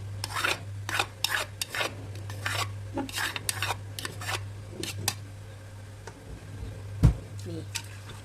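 A spoon stirs and scrapes curry paste around a cooking pot in a home kitchen, giving repeated close rasping strokes in an uneven rhythm over a steady low hum, with a sharp clink near the end.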